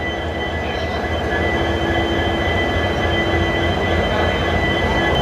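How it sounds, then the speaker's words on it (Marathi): A WDG diesel goods locomotive idles nearby with a loud, steady engine rumble and a constant hum, unbroken for the whole stretch. "हे आहे आजच्या आपल्या ट्रेनचं इंजिन, WDG वाईट डिझेल गुड्स"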